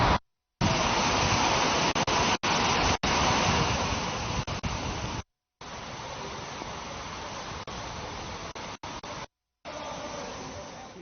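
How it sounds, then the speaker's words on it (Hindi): Rainwater pours and drips from a leaking roof onto stored paddy at a grain market in Sonipat, a steady rushing wash of water that drops out for a few brief silent gaps. "और यहाँ पानी टपक रहा है इस पे।"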